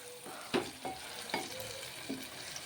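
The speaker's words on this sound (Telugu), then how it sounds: "ఆయిల్లో వేగేంత వరకు మంచిగా కలుపుకోవాలి" Chicken masala fries in oil while a spoon stirs it, with soft scraping strokes and a few clear knocks against the pan over a steady, close sizzle.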